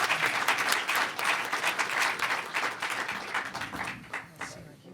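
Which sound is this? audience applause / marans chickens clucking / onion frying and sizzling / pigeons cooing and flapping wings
audience applause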